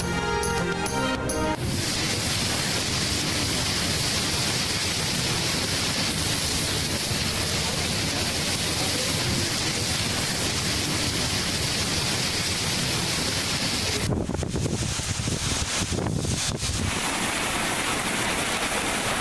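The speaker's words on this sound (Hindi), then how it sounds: "इस्लामाबाद, रावलपिंडी समेत मुल्क के मुख्तलिफ शहरों में मूसलाधार बारिश।" Heavy monsoon-style downpour in Islamabad and Rawalpindi, a dense, continuous roaring hiss of rain that stays loud and unbroken for nearly twenty seconds, with no voices over it.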